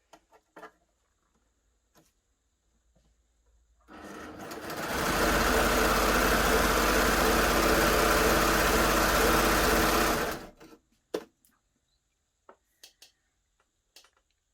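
A Baby Lock Gloria combination machine set to 4-thread overlock runs through organza for about six seconds as a loud, steady, fast mechanical whir, with quiet handling clicks before and after.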